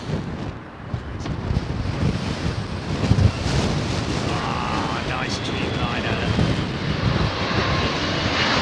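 Airplane at London Heathrow Airport in high winds, its engine roar steady and distant beneath heavy gusting wind buffeting the microphone, with a faint voice briefly in the mix.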